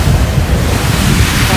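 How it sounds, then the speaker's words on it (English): Wind and surf on Ringstead Beach, a dense steady roar of waves with heavy wind buffeting the microphone, loud and continuous throughout. "we're sitting here on Ringstead Beach, waiting for the tide to come out a bit more"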